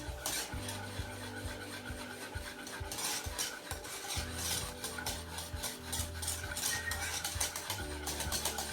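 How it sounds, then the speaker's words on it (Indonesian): Japanese cheesecake batter is stirred in a bowl, a continuous soft scraping and swishing of utensil against the bowl, faint and close, with a low steady hum underneath and no voices. "Aduk kembali hingga tercampur rata"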